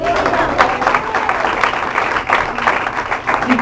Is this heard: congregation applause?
yes